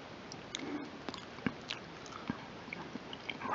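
Quiet, close bites and chewing of crunchy toasted French bread pizza, with soft irregular crunches and mouth sounds over a hushed background.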